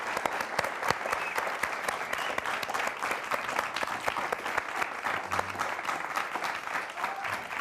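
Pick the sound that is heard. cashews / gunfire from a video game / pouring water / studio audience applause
studio audience applause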